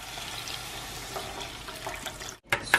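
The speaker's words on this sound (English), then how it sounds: "To that, I will add my 2 cups of water." Two cups of water pour into a pan holding quinoa for a Mediterranean quinoa salad, a steady close splashing rush that breaks off briefly near the end before a few sharper splashes.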